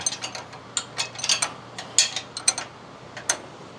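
A ratchet wrench loosens the steering drag link nut at the pitman arm on a Jeep JL, giving a series of close, sharp metallic clicks in short irregular bursts over a quiet background.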